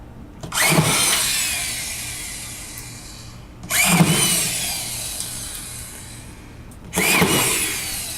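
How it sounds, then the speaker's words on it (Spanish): A cordless screwdriver drives screws into AQUAPANEL cement board in three separate bursts, each a loud rising whir lasting a couple of seconds and ending abruptly, heard close up with no talking. "Con la atornilladora simplemente quedará fijado."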